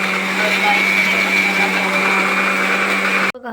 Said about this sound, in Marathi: आणि इकडे माझा मसाला वाटतोय